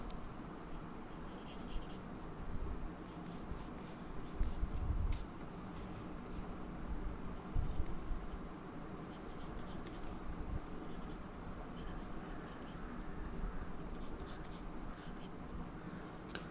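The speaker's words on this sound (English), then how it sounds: "again draw the biceps and the triceps" A pencil draws on paper with soft scratchy strokes in bursts and pauses, mostly quiet and close, against a low background rumble, with no one speaking.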